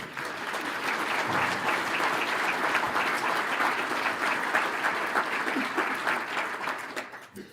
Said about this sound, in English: I think you should applaud them